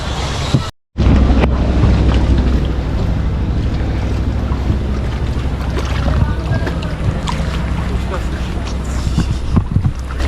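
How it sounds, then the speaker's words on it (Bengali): A small boat at the floating guava market at Vimruli, Barishal, rocks in the wake of a passing trawler, with a constant engine drone, wind buffeting and slapping water, and voices talking over it. "যখন পাশ দিয়ে একটা ট্রলার যায় তখন কিন্তু সেই ঢেউ থাকে"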